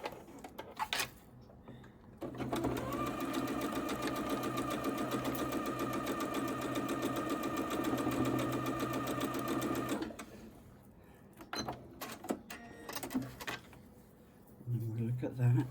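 Sewing machine stitching quilt blocks, a steady rapid mechanical whirr running evenly for about eight seconds, framed by brief handling noises and a person talking before and after.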